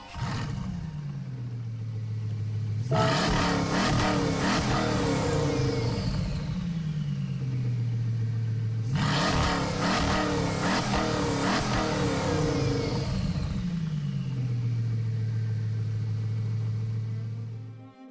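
Bugatti Veyron Gr.4 race car in Gran Turismo 7 roaring loudly through repeated high revs, each climb dropping sharply at a gear shift into a steady engine drone, cycling over and over with no talking.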